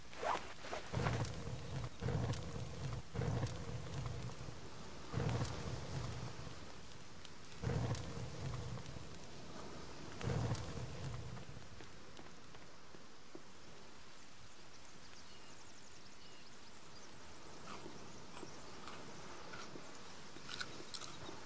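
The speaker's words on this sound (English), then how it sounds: "Damn rain." Rain and thunder in The Forest video game, a steady hiss of falling rain with several sharp thumps early on, then a softer continuous wash of rain alone, faint overall.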